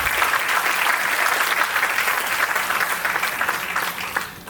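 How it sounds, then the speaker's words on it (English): Graduation ceremony audience at Vidyashilp Academy giving a round of applause for the graduating ISC batch, loud and full hand clapping from many people, sustained and easing off slightly near the end. "I would like to ask for a round of applause for our batch"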